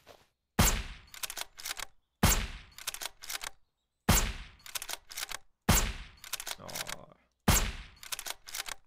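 Sniper rifle fire in the zombie game Surroundead, five loud shots at regular intervals, each a sharp blast with a decaying tail followed by several short mechanical clacks of the bolt or reload.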